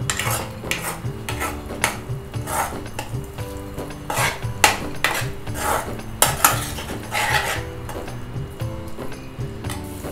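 Wet coconut masala being stirred in an oiled pan, with a spoon scraping and clanking steadily against the metal in uneven repeated strokes, close up and under a faint sizzle.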